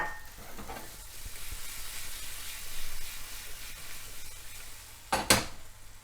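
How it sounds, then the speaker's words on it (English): Garlic and cherry tomatoes sizzle quietly in a pan with shrimp, a soft steady crackle, with a sharp clatter near the end as something is stirred. "The garlic is just beginning to sizzle now."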